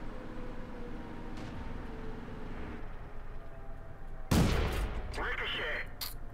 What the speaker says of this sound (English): Ricochet. We didn't manage to penetrate with that shot.